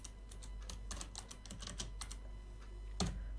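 Computer keyboard keys clatter in quick irregular bursts while code is typed for an Arduino RC controller project, close and fairly quiet, with a sharper clack near the end.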